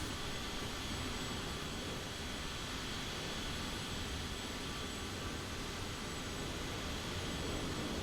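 A United Express regional jet takes off in Microsoft Flight Simulator at Chicago O'Hare, heard as a steady, faint, broadband jet roar without voices.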